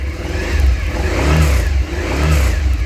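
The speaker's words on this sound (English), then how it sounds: "You can hear that V-twin" A 2017 Suzuki SV650 V-twin motorcycle engine is revved up twice from idle, giving loud, close, rising throttle blips that fall back between pulls.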